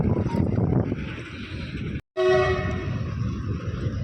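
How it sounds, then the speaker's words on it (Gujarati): A lone locomotive running without wagons passes close by, a loud continuous rumble broken by a brief gap, then a sustained horn blast over the engine noise. "આ તો ખાલી ઇન્જિન નીકળ્યો"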